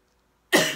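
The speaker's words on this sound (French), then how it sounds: "je suis désolée pour ma toux" A single sharp cough bursts out after a half second of silence, close and fairly loud, with a short rough tail.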